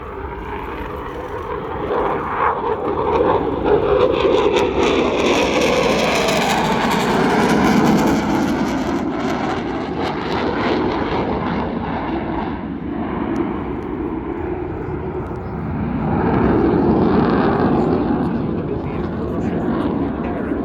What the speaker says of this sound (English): these aircraft have been very busy on air defence scrambles against Russian aeroplanes in recent years